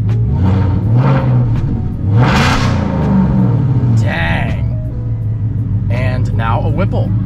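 A 2024 Mustang GT with a Corsa race axle-back exhaust, H-pipe and no mufflers rumbles and revs close by, its deep growl rising and falling with several throttle blips while people talk over it.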